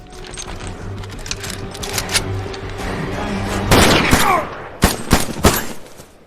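Gunfire in a movie action scene: a few sharp shots and bursts crack out over a low ambient soundtrack, loudest in the second half of the clip.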